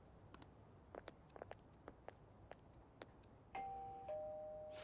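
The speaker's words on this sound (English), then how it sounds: "You ring the bell." A soft two-tone doorbell chime rings near the end, following faint scattered taps and clicks in an otherwise quiet scene.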